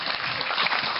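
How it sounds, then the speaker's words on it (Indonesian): A brief burst of crowd applause at a talk by Cak Nun, a dense wash of clapping lasting about a second. "Tepuk tangan untuk Mas Dudut."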